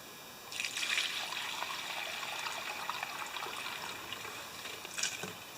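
Dirty used engine oil from a Tecumseh 6.5HP VLV mower engine pours and trickles steadily for several seconds, close and fairly soft, with a brief splash near the end.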